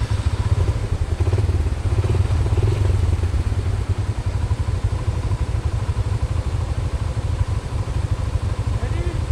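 A motorcycle engine runs nearby during snowfall, a loud, steady rhythmic throb that carries on throughout while people talk in the background.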